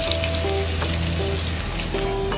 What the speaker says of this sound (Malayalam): ചുമപ്പ് കളറാകുന്നോളം വരെ നമ്മൾ ഒന്ന് വഴറ്റിയെടുക്കണം.